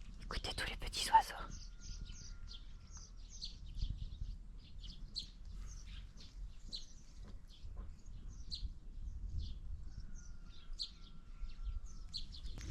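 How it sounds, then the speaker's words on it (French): Small birds chirp faintly and repeatedly in Hahoe folk village, a quiet outdoor scene of scattered high tweets, with a soft voice briefly at the start. "Écoutez tous les petits oiseaux."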